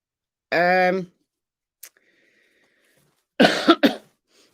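A short harmonic vocal burst, a faint click, then a sharp, harsh cough close by.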